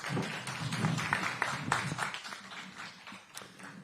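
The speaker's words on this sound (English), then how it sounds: "One more round of applause for these amazing racers." Audience at a Monster Energy Supercross post-race press conference in San Francisco applauds the racers, a few seconds of moderate clapping that tapers off toward the end.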